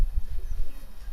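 Pet pigeons on a rooftop loft in Sadiqabad, a breeder pair with their young, give soft, low throaty coos in a short burst, close to the microphone.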